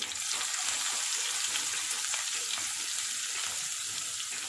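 Dried red chillies, curry leaves and onion frying in hot oil for a palak dal tadka make a steady, close sizzle and crackle with no talking over it.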